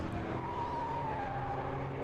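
Race cars pulling away on a formation lap at Donington Park, a sustained engine drone with a rising whine heard at a distance, steady and continuous without talk.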